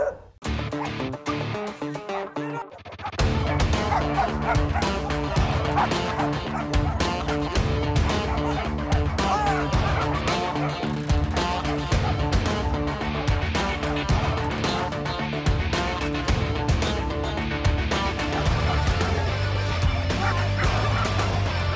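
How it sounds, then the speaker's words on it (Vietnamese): Police dogs at a training class bark and yelp repeatedly, with sharp, overlapping barks and occasional whines over a busy background that stays loud and continuous after a brief quieter opening. "Con chó nó cắn vào tay Sumo xong"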